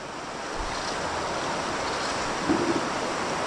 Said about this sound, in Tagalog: Ang laka ng tubig lalo, ano?